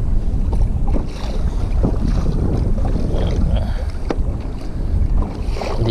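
Strong wind buffets a fishing kayak among big waves on open water, a constant low roar of gusts and microphone wind noise with splashing water, loud and close throughout.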